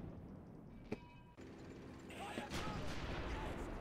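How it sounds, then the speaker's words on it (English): Distant gunfire and artillery booms from Soviet forces on a cold Eastern Front battlefield in the Real Warfare strategy game, a sharp crack near the start then a denser, continuous rumble of shots building toward the end. "Definitely hear the Soviet guns here somewhere."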